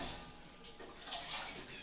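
Water pours into milk in a cooking pot as a soft, continuous splashing rush that runs throughout the moment.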